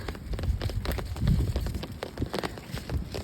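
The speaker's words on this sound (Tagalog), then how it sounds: "Ito na yung ulan." Steady rain patters and splashes on surfaces nearby, a dense continuous hiss with scattered drop hits and a low rumble underneath.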